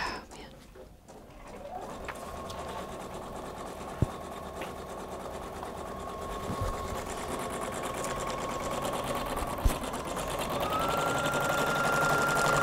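A Husqvarna Viking Designer Brilliance 80 embroidery machine stitches an applique outline, a fast steady mechanical whir that holds even throughout with a couple of brief clicks. No one speaks.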